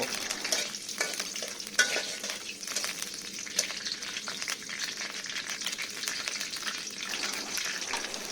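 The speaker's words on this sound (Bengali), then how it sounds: "এতে কয়েকটি তেজপাতা এলাচ দারচিনি এবং লবঙ্গ দিয়ে দিব তারপর এগুলো হালকা নাড়াচাড়া করে ভেজে নিব" Bay leaves, cardamom, cinnamon and cloves fry softly in hot oil with a faint, continuous crackle, while a spoon clinks and scrapes the pan in light, irregular stirring.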